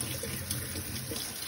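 Soaked baby lima beans are rinsed under a running tap, giving a steady, soft splash of flowing water that continues evenly without speech.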